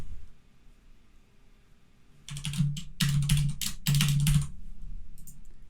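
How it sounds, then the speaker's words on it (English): Typing on a computer keyboard while setting up a Firebase billing topic, heard as clustered bursts of key clicks after a quiet opening, close and fairly loud, with no talking. "I'm going to go ahead and type one."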